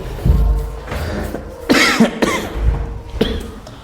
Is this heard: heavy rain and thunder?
no